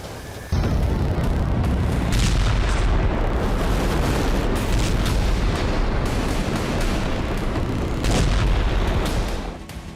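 Rocket launcher fire and explosions during an Israeli strike on a Gaza apartment: a continuous loud, rumbling roar of blasts and booms that starts abruptly and holds for the whole stretch.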